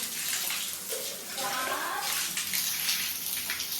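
Water gushes from a tank-fed hose or tap while a scooter is washed, a loud continuous rush with shifting splashes, close and steady throughout.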